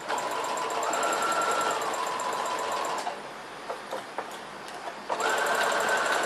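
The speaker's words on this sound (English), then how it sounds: "Put your needle down, turn this, place it down, and then continue sewing." A sewing machine stitching a sleeve runs in a steady whirring buzz for about three seconds, pauses with a few soft clicks of handling, then starts stitching again, loud and close.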